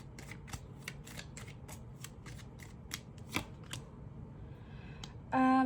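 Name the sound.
playing cards falling out of the deck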